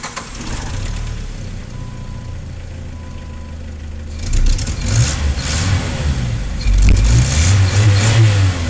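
A car engine cranks and catches after a jump start from a Gooloo 4000A jump starter, then revs loudly in uneven bursts close by, held steady at a rough idle between throttle blips.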